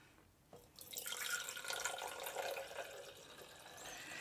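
Water pours into a container for a science demonstration, a soft splashing gush beginning after a brief quiet moment and then tapering gently, fairly faint.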